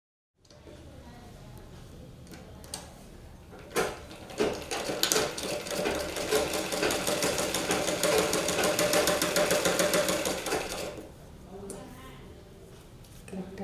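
A sewing machine stitches the front edge of a plain blouse in one steady, rapid run of needle strokes lasting about seven seconds, close and fairly loud, with fabric handling and quieter sounds before and after.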